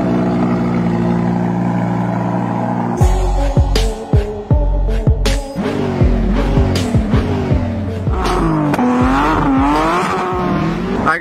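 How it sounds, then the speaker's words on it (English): A Bugatti and a Lamborghini launch from 0 to 60, engines droning loudly at idle before a sudden roar of hard acceleration with rising, repeatedly shifting engine notes, close and dominant throughout. "We're gonna see which car is quicker from 0 to 60, the Bugatti or the Lambo."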